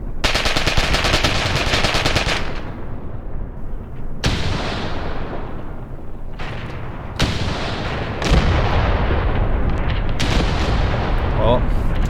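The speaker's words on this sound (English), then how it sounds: "Well, looks like at this distance the shots are bouncing" Sustained automatic gunfire and heavy cannon shots from the Graviteam Tactics war game, rounds striking and bouncing off tank armor at distance; dense loud bursts with sharp onsets and brief gaps, continuous throughout.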